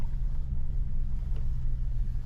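A pickup truck engine labours up a steep mountain switchback road as it begins to heat up, giving a steady, close, low droning rumble with no break.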